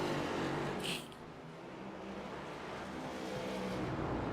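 A race car rolls down pit road at Road America, its engine a steady, fairly faint drone that holds for several seconds, with a brief higher-pitched whine near the start.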